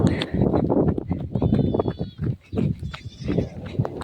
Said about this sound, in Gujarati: બાકરા ભાગી ગયા